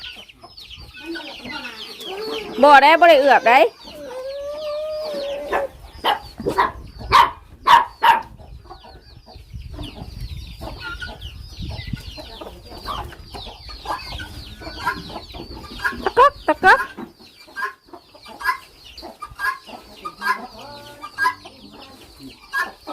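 Chickens and chicks cluck and call close by at a farmyard with ducks, a few loud squawks early on, then scattered short clucks with brief speech in between.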